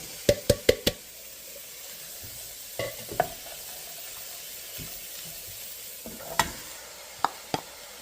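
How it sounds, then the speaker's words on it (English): Vegetables being stirred into a hot soup pot with Worcester sauce, sharp spoon knocks against the pot in a quick burst, then scattered scrapes and clinks over a soft steady sizzle. "Give that a quick stir, and let's get our vegetables in there."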